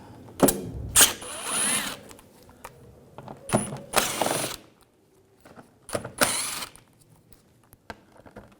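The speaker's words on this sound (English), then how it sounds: "Using a T25 socket, we're going to take these screws out." A ratchet with a T25 socket backs screws out of a 2011-2018 Volkswagen Jetta bumper, giving short bursts of quick clicking and whirring from close by, separated by quiet pauses.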